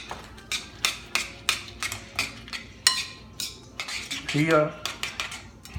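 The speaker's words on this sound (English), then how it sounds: "So we are going to stir all these elements and make a mixture." A chopped onion mixture with other ingredients is stirred in a bowl, a utensil clinking against the dish in a steady run of sharp, close taps, with a brief scraping swirl near the end.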